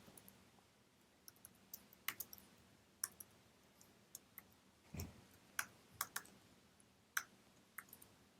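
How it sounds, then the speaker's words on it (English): Someone types on a computer keyboard while writing MATLAB code, producing soft, close, irregular key clicks with small pauses between quick clusters of taps in an otherwise quiet room. "Let's type in update"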